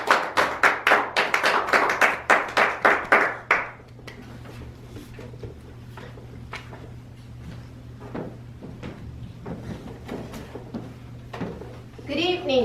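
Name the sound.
audience round of applause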